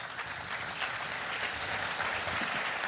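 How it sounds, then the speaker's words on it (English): Steady applause from a conference audience at an outsourcing event in Costa Rica, a dense even roar of clapping holding throughout. "Let's give these guys a round of applause"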